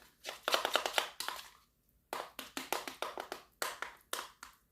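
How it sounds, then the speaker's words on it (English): Avocado being mashed by hand for a quick rotisserie chicken weeknight dinner, a run of quick, close, wet slapping taps in two bursts separated by a short pause, with no talking. "just mash it up really good"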